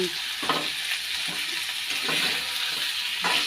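Meat sizzles steadily while being sautéed in oil in a pot, a close continuous frying hiss broken by a few scraping stirs of the spoon.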